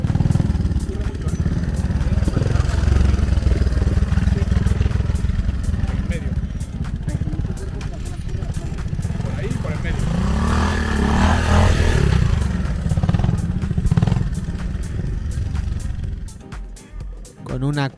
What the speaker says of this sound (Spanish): Escuchemos su Honda.